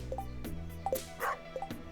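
A dog barking in the farming game Stardew Valley, a few short yips and barks spaced through the moment among game sound effects and faint background music.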